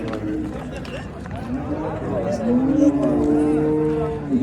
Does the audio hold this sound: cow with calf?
yes